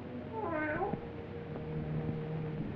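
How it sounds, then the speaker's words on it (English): A cat meows once in a nighttime graveyard, a short rising-and-falling cry over a steady hum of background noise, with a faint thump afterward. "keep that cat from desecrating my graves"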